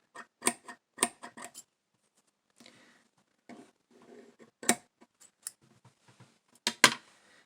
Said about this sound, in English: let me cut off this long string here